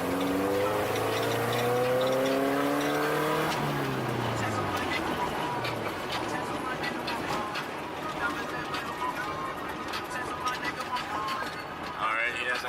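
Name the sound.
Subaru car driving and pulling into a driveway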